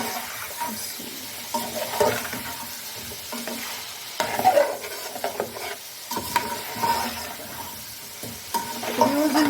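Biryani frying and being stirred in a pot over a low-to-medium flame, a soft sizzle under repeated scraping and clinking of a spoon against the pan.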